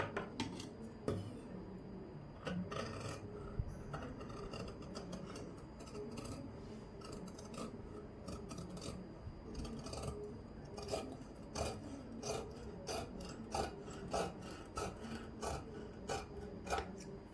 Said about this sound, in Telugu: సేమ్ అదేవిధంగా బ్యాక్ నెక్ కూడా కట్ చేసేస్తున్నాం.